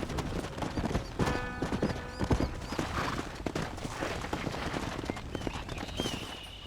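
Horse hooves clip-clop on the ground in a Red Dead Redemption ranch scene, a steady near rhythm of hoofbeats under a busy game soundscape, with a brief whinny and no talking.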